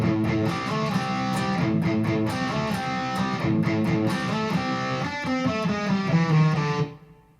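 Distorted electric guitar plays the Metallica Seek and Destroy riff, a driving string of palm-muted low notes and accented chord stabs, close and steady before ringing out at the end.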